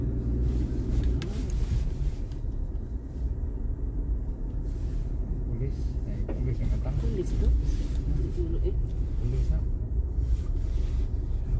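A car creeps slowly through a drive-through Festival of Lights display, a steady low engine and road rumble with some wind noise, while people talk inside the vehicle.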